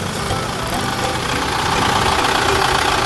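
A 2015 Chevrolet Captiva 2.0 diesel idling with the hood open, giving a steady, loud, close-up clattering hum with no change in pace.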